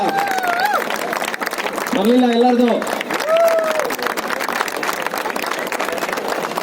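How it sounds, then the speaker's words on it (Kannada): A crowd at a police run event in Hubballi claps loudly and continuously while someone speaks over the applause through an amplified voice. "ಅವ್ರಿಗೆಲ್ಲ ಜೋರಾದ ಚಪ್ಪಾಳೆ ಹೊಡೆಯೋದ್ರ ಮುಖಾಂತರ"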